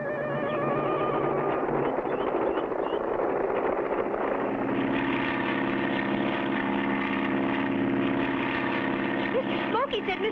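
A cartoon propeller airplane flies with a steady, loud engine drone and whirring airscrew that continues throughout, rising a bit in the second half, with a brief higher whine near the end.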